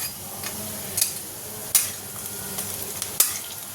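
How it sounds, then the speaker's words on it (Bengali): Lentil paste frying with onion, coriander leaves and green chili, a low continuous sizzle with a few sharp taps of a spatula against the pan. "ওটাকে একটু পেঁয়াজ, ধনেপাতা, কাঁচা লঙ্কা দিয়ে একটু ভেজে দিচ্ছি"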